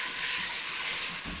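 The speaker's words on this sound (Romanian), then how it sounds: "lăsăm un minut, un minut jumate să se călească toate legumele împreună." Carrots and bell peppers sauté in a pan with a steady, close hiss and sizzle, punctuated by soft stirring scrapes, with no speech.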